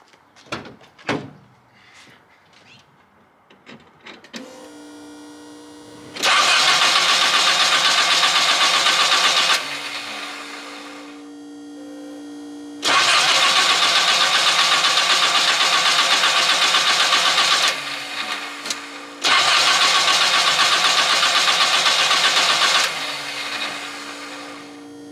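A Datsun 510 wagon engine with a Weber carburetor and no choke hooked up cranks, catches and roars loudly three times, dropping back to a rough idle between bursts.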